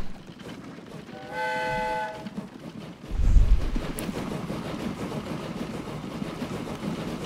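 In the video game Train Fever, a train departs: a clear multi-tone horn blast sounds first, then a deep rumble swells, and the steady rolling noise of the train continues to the end.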